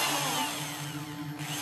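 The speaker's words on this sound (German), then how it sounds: "Ich muss nur noch schnell ein Loch bohren." Steady whine of an electric drill boring a hole, a continuous close buzzing hum throughout with no pauses.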